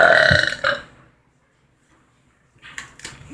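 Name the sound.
burping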